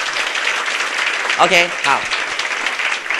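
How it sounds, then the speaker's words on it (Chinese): Audience applause at a retirement-planning seminar, a steady wash of clapping that runs the whole moment while a voice talks briefly over it. "这样要不要给自己一个掌声？"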